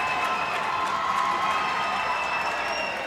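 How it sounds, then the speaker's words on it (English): Spectators cheer loudly and steadily at a college ice hockey game between the CSU Rams and the Colorado Buffaloes, a dense, continuous roar filling the arena. "the crowd is into it"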